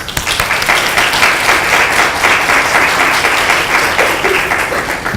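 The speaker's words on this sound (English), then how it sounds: "Please join me in welcoming Beth with a round of applause" An audience at a talk on women's advancement gives a full round of applause, dense steady clapping from many hands filling the room for several seconds without letup.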